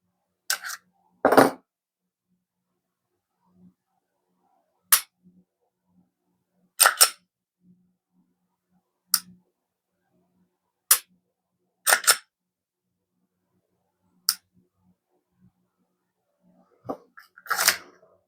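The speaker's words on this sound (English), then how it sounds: "Let's look at that trigger pull now." Glock 43X pistol trigger pulled and reset repeatedly, about a dozen crisp, close, sharp clicks spaced a second or two apart, some in quick pairs, against near silence.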